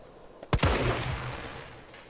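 A sharp gunshot in Resident Evil 3 Remake, a loud close crack followed by a second report and a decaying boomy tail, with no talking over it.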